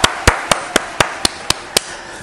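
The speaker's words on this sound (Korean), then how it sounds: "박수!" Eight sharp, evenly spaced claps ring out close and crisp, one about every quarter second, over a faint background.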